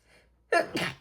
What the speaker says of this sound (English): Sorry, I gotta sneeze.